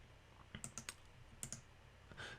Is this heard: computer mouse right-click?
yes